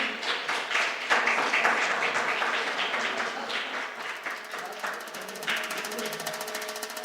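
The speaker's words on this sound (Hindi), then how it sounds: "तालियों बजती रहे।" An audience claps steadily at a Hindi-language felicitation ceremony honoring PhD recipients in journalism research. The dense, even clapping continues at the same level for several seconds.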